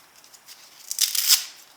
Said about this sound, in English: If the strap is a little bit too long for your rifle, just cut some off the end.